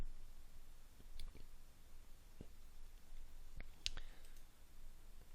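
Faint, sparse computer mouse clicks while sorting and loading a class roster in school software, a few soft isolated taps spread across a quiet stretch with one sharper click near the middle.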